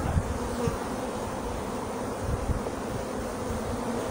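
Honeybees buzz in an opened hive after a spring cold spell, a dense, steady drone of many bees close by. Occasional nearby knocks and shuffles sound through the hum.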